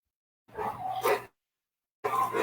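A dog barks in two short bursts close by, the first lasting nearly a second, the second starting after a pause, with no talking over it.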